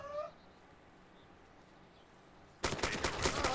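Sudden loud burst of close automatic gunfire in the military shooter Arma 2, erupting after a long stretch of near silence and faint background noise.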